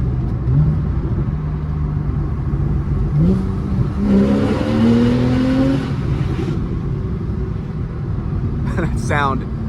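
A 2014 Porsche 911 S engine revving up and down with rising and falling pitch while driving, under steady road rumble and some conversation.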